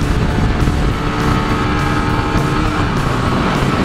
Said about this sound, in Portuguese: Eu acho que ele tá acelerando lá atrás!